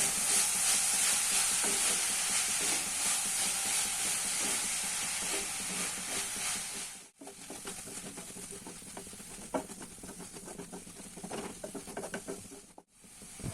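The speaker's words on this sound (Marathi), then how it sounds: "टाकलेली मेथी सगळी मी मस्त परतून घेतली" Chopped fenugreek leaves are sautéed in a pan: a continuous moderate sizzle with intermittent stirring scrapes and rattles, interrupted by two short cuts, near and without talking.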